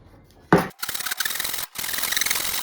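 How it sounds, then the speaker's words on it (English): A hand saw cuts wood for a guitar neck. A short sharp scrape is followed by a run of steady rasping strokes, close and fairly loud, with one brief pause between strokes and no voices. "I'm going to have to get a hand saw, and I'm going to have to chop that extra bit off"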